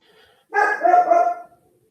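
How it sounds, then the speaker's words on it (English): A single dog gives a short burst of close barks and yips, loud and then fading, in a quiet room during a pool match, with no talk over it. "Oh, my dog says hi."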